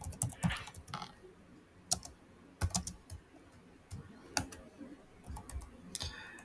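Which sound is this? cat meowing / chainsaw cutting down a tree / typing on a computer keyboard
typing on a computer keyboard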